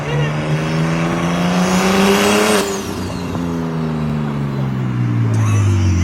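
A big-turbo BMW 335i, bought cheap, drives off with a loud engine drone that climbs steadily in pitch as it accelerates, then eases and settles into a lower steady hum.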